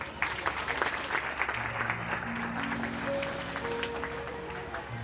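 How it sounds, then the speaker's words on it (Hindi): An audience applauding at a live music show, sustained clapping close and dense throughout, with a faint tonal instrument drifting in underneath partway through. "हुण ताली बजाओ"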